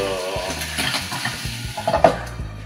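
Ingredients sautéing in a home kitchen pan give a steady close sizzle, with a utensil stirring and clinking against the pan and a sharper scrape near the end; no voices.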